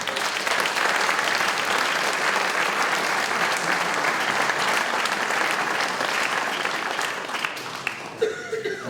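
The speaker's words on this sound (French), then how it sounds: "je voudrais que vous les remerciez et que vous les applaudissiez" Applause at a mayor's New Year address breaks out for the sponsors, a dense, loud, steady round of clapping with a little laughter mixed in before it tapers off near the end.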